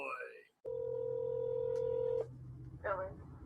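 A steady dial tone from a phone call recording cuts in, holds for over a second and a half, then stops; a brief beep follows, and a voice speaks faintly before and after.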